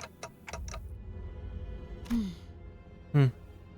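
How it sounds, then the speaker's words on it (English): Clock ticking inside the video game Limbus Company: a few quick, faint ticks early on, then two short vocal grunts over a low, steady game ambience. "All I can hear is the clock ticking."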